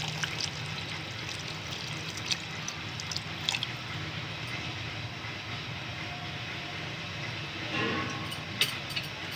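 Tamarind juice poured into a simmering Andhra murrel fish curry, a steady broadband wash of liquid splashing and bubbling that runs near and even throughout, with a few brief clinks and no talk.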